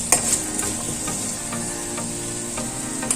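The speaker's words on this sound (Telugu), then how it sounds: "ఆనియన్స్ని కాసేపు వేగనివ్వాలి" Onions and curry leaves fry in a pan with a steady close sizzle, broken by a few scraping stirs of a spoon against the metal.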